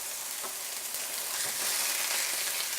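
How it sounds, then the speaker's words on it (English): Steady, hissing sizzle of chicken frying in hot oil in a pan, soft and close, with faint crackles and no talking. "there's our sizzle that we like"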